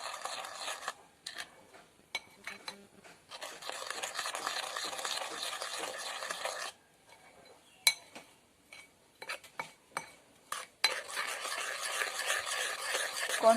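Cornflour being mixed into a homemade hair spa mask, a spoon scraping and clinking against a bowl in irregular bursts with short pauses, close and fairly quiet.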